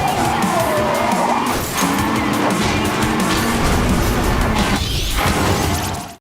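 Arcade racing cars in Blur roar by with loud engine drone, squealing tires and skids, a continuous close rush of motor noise throughout.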